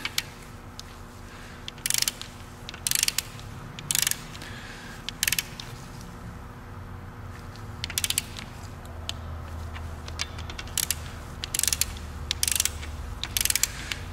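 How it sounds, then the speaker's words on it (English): Torque wrench tightening engine bolts to 15 foot-pounds during a Plastigage bearing check, giving a series of sharp ratcheting clicks in short bursts, close and fairly loud over a quiet garage hum. "Set my torque wrench. So we'll set these to 15."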